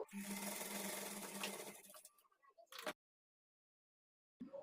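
Sewing machine stitching a blouse front runs in a dense, steady whirring burst for about two seconds, then slows with a few clicks and stops; a short renewed burst follows after silence.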